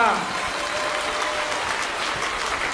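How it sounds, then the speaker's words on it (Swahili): Sustained, dense applause from an assembled audience at a public meeting, an even roar of many hands clapping close by for the whole stretch. "Hayatoshi makofi hayo"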